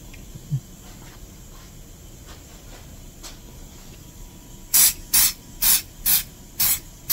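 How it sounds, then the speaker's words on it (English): Quiet room tone with faint ticks, then six short, sharp aerosol bursts of Glue Boost accelerator spray onto a damaged Drake Custom 6-string bass guitar, each a close hiss about half a second long. "and yet another hit of the glue boost"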